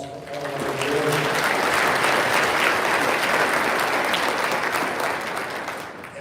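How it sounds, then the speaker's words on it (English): Sustained applause from an awards ceremony audience for the award sponsors, a dense wash of clapping that swells, holds steady and then tapers slightly at the end. "How about a round of applause for all of our awards?"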